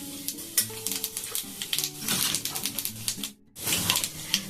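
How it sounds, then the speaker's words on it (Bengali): Nigella seeds crackle and sizzle in hot oil in a pan where small fish have just been fried for a spicy Bengali chochchori, a dense continuous frying hiss with rapid pops and a brief pause near the end. "দিয়ে দিলাম এখানে একটু কালো জিরে"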